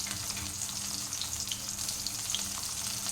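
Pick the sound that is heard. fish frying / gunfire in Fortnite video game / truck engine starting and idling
fish frying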